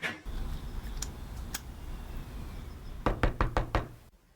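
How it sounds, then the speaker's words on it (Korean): Repeated knocking on the front door of an empty, unanswered house: a fast burst of five sharp raps near the end, following a few scattered knocks, close and distinct against a low steady background hum. "대답 없는 집 앞에서 한참 문을 두드립니다."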